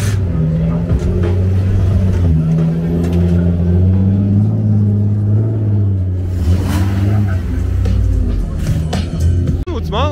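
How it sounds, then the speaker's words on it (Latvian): A drift car at a drift event revs and holds a droning engine note with rising and falling pitch, loud and close, while people talk over it throughout. "Pirmā drifts tačka."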